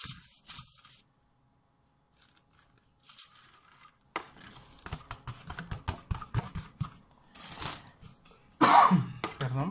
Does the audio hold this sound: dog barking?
no